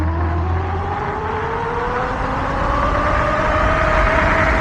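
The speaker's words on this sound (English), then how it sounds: "Oh, it's a little V6." A car with a small V6 engine drives past an e-bike rider, its loud engine note rising steadily in pitch as it accelerates close by.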